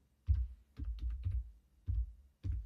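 Keys tapped on a computer keyboard while a Python virtual environment is set up in Git Bash: a handful of separate, close, soft clicks in an uneven rhythm, with no talking.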